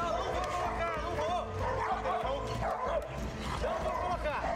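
A police dog barks and yelps repeatedly in short excited bursts during a tense street confrontation, heard under loud shouting voices.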